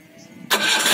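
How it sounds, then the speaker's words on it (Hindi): Engine of a modified Jeep fires up after a half-second of near silence, jumping abruptly into a loud, steady, close running roar. "चलो फ्रेंड, मैं आपको स्टार्टिंग करके दिखाता हूँ इसकी स्टार्टिंग कैसी है।"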